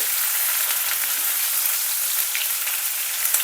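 Chopped onion and breakfast ingredients fry over a gas flame in a pan while being stirred, a continuous close sizzle with faint scraping ticks and no talk.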